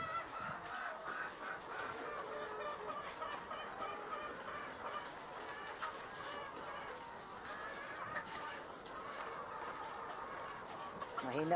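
A flock of chickens in a poultry building clucks and chatters continuously while they feed, a dense, fairly quiet mix of many birds with faint voices in the background.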